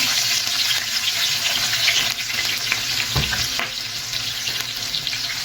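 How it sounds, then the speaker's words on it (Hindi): A medium onion drops into hot spices in a pan for Saudi kabsa, setting off a steady hissing fry with a few soft knocks and stirring sounds, and nobody speaks. "अब इसके अंदर ये मैंने एक दरमियानी साइज का प्याज है, ये इसके अंदर डाल देते हैं।"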